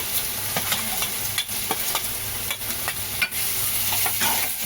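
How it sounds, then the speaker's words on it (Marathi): Onion frying in hot oil in a pan for a Malvani-style curry: a steady, loud, close sizzle running throughout, with soft stirring scrapes on top and no talking. "कांदा मस्त तेलात ठेवा भाजून"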